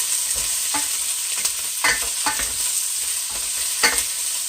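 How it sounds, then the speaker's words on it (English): Kale greens sautéing in a pan over medium heat, a steady close sizzle broken by irregular scrapes and stirs of a utensil against the pan, with no talk. "we're just going to keep on sauteing those"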